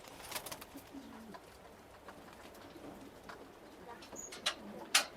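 Pigeons of large fancy breeds coo softly at feeding time, low murmuring calls scattered under distant chatter and a few sharp chirps near the end.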